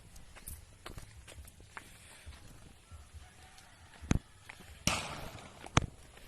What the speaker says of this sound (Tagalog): Ayun o, may nagbabarilan.